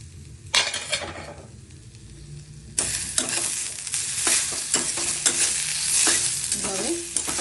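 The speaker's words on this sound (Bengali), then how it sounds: "একটু বেগুনটাকে ঢাকনা দিয়ে ভেজে নিচ্ছি" Brinjal fries in oil in a wok, giving steady sizzling broken by loud stirring scrapes and a few metal clinks. The frying grows busier after a sudden jump in level partway through, and no one speaks.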